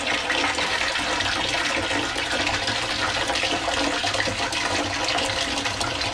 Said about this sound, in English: right now you see the water overflow to this drain and down to barrel number 2 right there